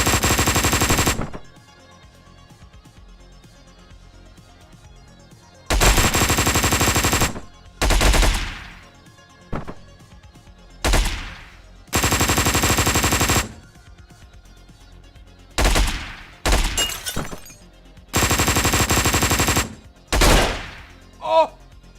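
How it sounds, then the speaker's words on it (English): Machine-gun fire from the video game Hotline Miami 2 comes in loud, dense bursts that alternate with short quiet gaps, about a dozen separate volleys. "machine gun."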